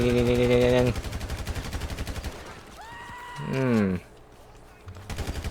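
Rapid bursts of GTA V gunfire during a street gang brawl, sharp repeated cracks running through most of the clip, with a voice and tonal in-game sounds layered over the shots.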